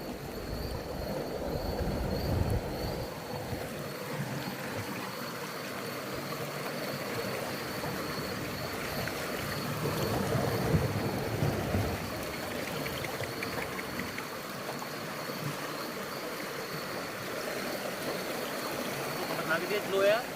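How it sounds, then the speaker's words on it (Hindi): Fast-flowing stream water rushes in a steady, broad roar that fills the whole stretch, with voices faintly mixed in over the constant surge. "पानी का फ्लो बहुत तेज़ है भाई यहाँ पे"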